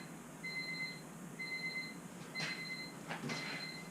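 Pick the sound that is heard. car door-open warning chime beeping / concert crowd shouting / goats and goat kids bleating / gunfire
car door-open warning chime beeping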